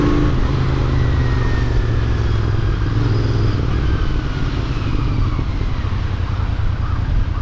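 Royal Enfield Interceptor 650 motorcycle riding in third gear, a loud close engine drone with steady exhaust throb and faint whine, continuous with no talk.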